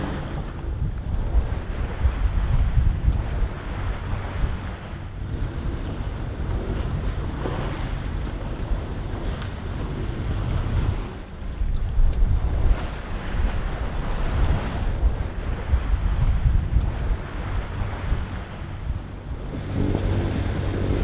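Strong wind of about 20 to 25 knots roars across an anchored sailboat's microphone while waves slosh steadily against the hull, a dense, continuous rush with gusty swells and no talk.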